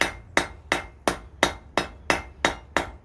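A hammer strikes hot metal on an anvil while a metal hairstick is hand forged, giving nine sharp, evenly spaced ringing blows in a steady rhythm, close and clear.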